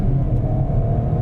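A Peugeot 308 with a 1.2 PureTech turbocharged petrol engine accelerating hard, a steady low rumbling drone heard from inside the car, loud and continuous with no talk.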